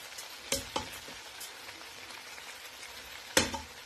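Chicken frying in a pan, a quiet steady sizzle punctuated by a few sharp crackles and spatters, with no talking.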